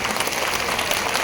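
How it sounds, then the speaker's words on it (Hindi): An audience at a poetry stage event during the Chaiti fair in Gola Gokarnnath claps in dense, continuous applause, heard loud and close with no voices over it. "तो याद करके कम से कम 10 बार तालियां दीजिए"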